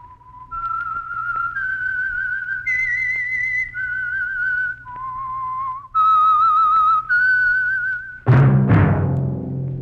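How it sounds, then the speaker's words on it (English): The whistled theme signal of the radio mystery program The Whistler, sponsored by Signal Oil: a clear, solo melody of held, slightly wavering notes, ending in a sudden loud orchestral chord. "That whistle is your signal for the Signal Oil Program, The Whistler."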